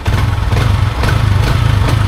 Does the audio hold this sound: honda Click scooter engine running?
yes